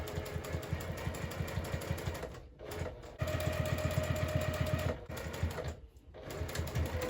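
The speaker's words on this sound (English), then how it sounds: "I'm gonna keep on sewing at that 1/4 inch seam allowance." A sewing machine runs in steady rapid stitching bursts at a quarter-inch seam, pausing briefly twice before starting again, close and fairly quiet.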